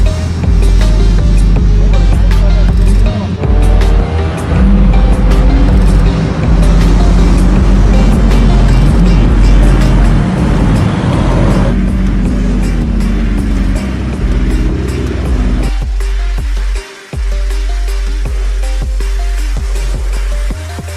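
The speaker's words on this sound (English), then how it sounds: "And here's the DB11 I'm driving." An Aston Martin DB11 drives through a city at night, a loud, continuous engine and road roar that shifts in pitch partway through and drops briefly near the end.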